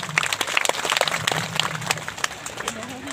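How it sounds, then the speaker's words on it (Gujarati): A devotional gathering at a religious ceremony breaks into brisk, close applause and clapping from the crowd, layered under an amplified voice speaking over it. "તાળીઓથી વધાવી લઈએ"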